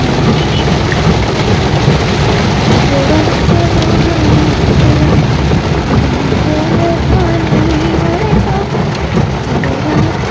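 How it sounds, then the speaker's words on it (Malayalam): Heavy rain pours down on a car driving near Taliparamba, a loud, dense, unbroken roar of drops with a low rumble beneath, continuous for the whole stretch. "അടിപൊളി മഴ"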